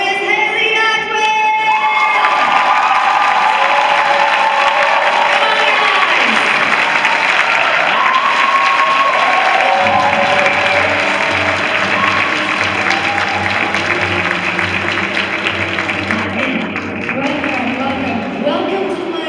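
A comic convention crowd applauds and cheers loudly for a guest arriving at a panel, sustained clapping with whoops and shouts, and a voice speaking over the noise.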